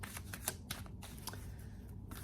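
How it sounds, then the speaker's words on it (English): Tarot cards riffled and slapped down one after another, a close run of crisp papery flicks and soft taps at an uneven pace, quiet and alone. "let's lay out some cards here"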